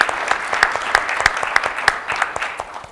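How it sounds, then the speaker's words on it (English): Audience applause at a Rotary club meeting: a steady run of claps, sharp individual hits rising out of a dense wash, fairly close and even in strength for a few seconds before easing slightly. "let's give the corporate roundtable committee another round of applause"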